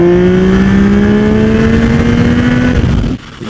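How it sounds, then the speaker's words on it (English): A 2024 Yamaha MT-09 motorcycle engine with acoustic intake enhancement revs loudly and steadily, its throaty pitch climbing gradually before cutting off abruptly near the end. "it's to make the engine sound a bit more louder and a bit gruntier"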